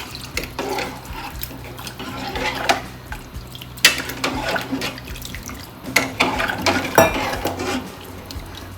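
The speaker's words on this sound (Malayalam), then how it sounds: "ഒന്ന് ഇളക്കി കൊടുക്കാം." Spoon stirring a pot of cucumber sambar on the stove, repeated scraping and clinking against the metal with sloshing liquid, steady and close, no talking.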